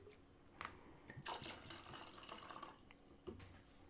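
Russell's Reserve whiskey poured neat into a medieval-style cup, a close splashing pour running for a few seconds, louder in the middle and tapering off with a brief final trickle.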